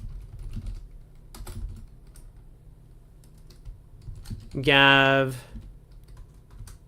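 Clicks of a computer keyboard close to the mic, scattered and irregular, with a voice speaking briefly partway through and louder than the keystrokes.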